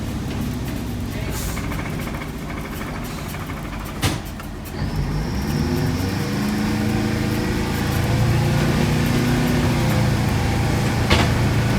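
A GMC 4106 bus engine drones steadily and close by during a test drive, with road rumble underneath and the pitch climbing as the bus gains speed partway through.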